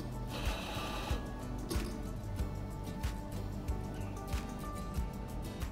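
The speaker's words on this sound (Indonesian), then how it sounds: "Terus kita haluskan bubuk kopi menggunakan grinder." A coffee grinder grinds coffee beans with a steady close whir and faint periodic clicks throughout, quiet and without speech.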